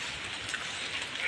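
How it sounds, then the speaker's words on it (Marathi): Rain is just beginning to fall near a riverside temple area, a soft, even patter of drops on surfaces, faint and steady over a brief moment. "आता पाऊस पडायला लागला."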